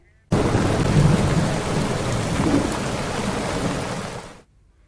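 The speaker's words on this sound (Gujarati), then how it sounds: "સમગ્ર વિસ્તારમાં જળબંબાકાર થયો હોય તે પ્રકારનો વરસાદ અત્યારે વરસી રહ્યો છે" Heavy rain pours steadily in a coastal belt area, a dense close hiss lasting almost the whole stretch with low rumbles of thunder rolling underneath, starting and stopping abruptly.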